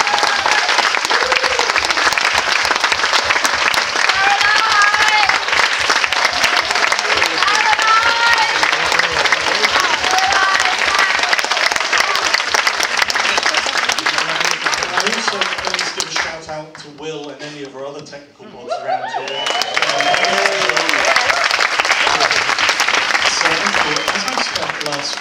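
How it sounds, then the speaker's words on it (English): A large audience applauds loudly and continuously at a Dartington College of Arts memories gathering, dense clapping that fades briefly partway through before swelling again, with voices talking over it. "A round of applause."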